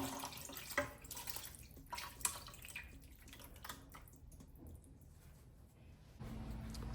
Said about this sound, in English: Now I'm going to pour the sauce over the chicken.